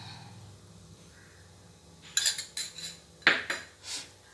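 A metal spoon clinks and scrapes against a biryani pot as ghee is added, giving a few sharp, close metallic knocks after a quiet opening.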